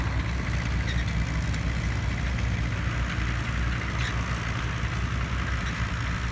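An International crawler tractor's engine idles with a steady, loud, low rumble that holds unchanged throughout, with no other sounds.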